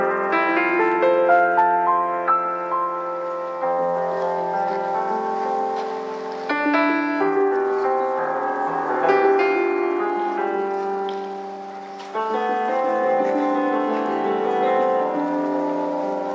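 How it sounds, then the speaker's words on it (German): Electric piano played at a Faust theatre production, a steady, fairly loud melody with rich sustained chords and no pauses or voices. "am E-Piano hören Sie Sarin Rezai vom Klingenden Museum."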